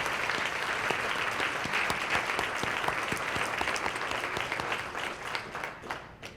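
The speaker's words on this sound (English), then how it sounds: "Let's give them a round of applause, please." A gala audience at an achievement celebration applauds honorees, a broad crowd of clapping with distinct individual claps poking through, sustained and fairly even before tapering off toward the end.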